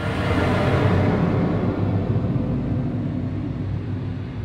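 A struck piece of metal slowed and smeared by heavy Paul Stretch time-stretching in Audacity turns into a dense, sustained drone, low and rumbling with an airy wash, steady and loud for several seconds before easing off slightly.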